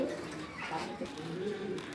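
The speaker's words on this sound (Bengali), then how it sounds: "প্রিয় দর্শক আপনারা দেখতে পারছেন এখানে দুই পিস কবুতর আছে" Two local Bangladeshi desi pigeons, gola breed, give soft low cooing that runs steadily through the clip, close and moderately loud.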